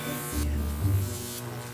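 Jacob's ladder arcs powered by a 15,000-volt neon transformer, giving a steady close electrical buzz with a low hum that shifts slightly as the arc climbs.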